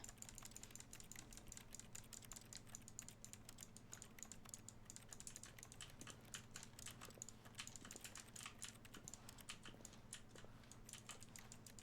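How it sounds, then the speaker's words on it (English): Rapid keyboard typing clicks from the Stanley Parable video game form a steady, dense clatter of close keystrokes over a low constant hum, with no voices. "the game audio makes it sound like I'm typing on a keyboard."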